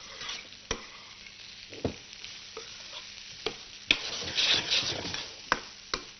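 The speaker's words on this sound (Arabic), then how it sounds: "وهنزل بقى بالبطاطس في التوقيت ده، تقليبه برده كده" Lentils and potatoes sizzle steadily in a frying pan while a utensil scrapes through them in separate stirring strokes every second or so, with no talking.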